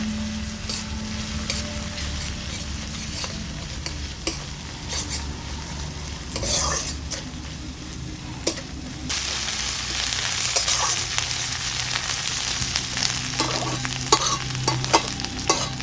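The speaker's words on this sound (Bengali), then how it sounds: "দিয়ে দিচ্ছি বেটে রাখা আদা, ভালো করে মিশিয়ে নেব।" Ginger paste is stirred into chopped onions frying in a pan for a soya and chickpea ghugni, with a steady close sizzle and repeated scraping strokes of the spoon throughout.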